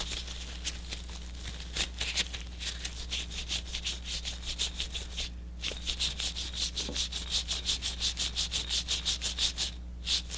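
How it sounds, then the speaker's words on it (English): A lamp holding beans is rubbed in a quiet ASMR setting, with rhythmic scratchy strokes repeating close to the microphone, speeding into a rapid even series toward the end over a low background hum. "you will want to rub the lamp"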